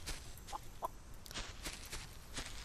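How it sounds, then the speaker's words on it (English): A chicken in a chill solarpunk sky island survival sandbox game gives a few short, faint clucks at irregular moments over soft ambient game sound, with no voices. "There's a chicken."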